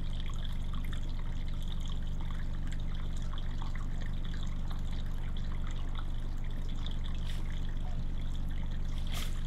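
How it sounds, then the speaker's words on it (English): Water trickles and runs steadily through a wooded trail area, a continuous low babbling wash with faint scattered splashes, with no voices over it. "All I hear is running water now"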